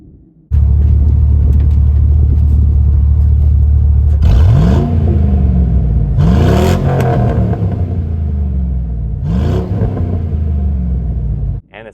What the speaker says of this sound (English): And it sounds fantastic, this old 6-liter engine.